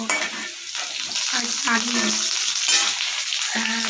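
Potatoes frying in a home kitchen pan crackle and sizzle loudly, with spatula scrapes and light clinks over a short stretch.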